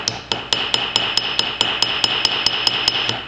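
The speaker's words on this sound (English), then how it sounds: "So I'm cross peening to begin with" Hammer cross peening a metal rivet head: a steady run of about fifteen sharp, ringing metallic strikes in quick even rhythm, close and loud, with no talking.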